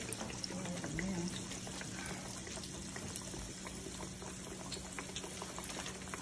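Steady, dense bubbling and sizzling of fish frying in hot oil, a constant crackle with no pauses.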